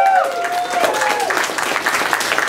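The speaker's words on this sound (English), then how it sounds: "Please give this bastard a round of applause." Audience applause at a comedy roast held at the Pilot Light in Knoxville, Tennessee, with dense clapping and cheering from a small crowd and a whoop or whistle near the start.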